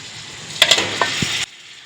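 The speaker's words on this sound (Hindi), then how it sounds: "इसको अच्छा सा भून के इसके अंदर मैं टमाटर और हरी मिर्च डाल दूंगी। गोश्त डाल दूंगी इसमें" Beef frying with tomato, green chili and red chili powder in a pot: a short burst of loud sizzling with a few metal utensil clinks, cutting off abruptly.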